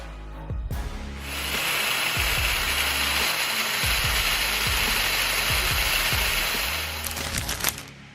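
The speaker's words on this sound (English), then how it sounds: "This one's the V8-powered hot saw." A V8-powered hot saw, a chainsaw-style tree-cutting machine, roars at full throttle in a sustained loud blast after a brief start, holding a steady high whine before cutting off abruptly, with mechanical clatter at the edges.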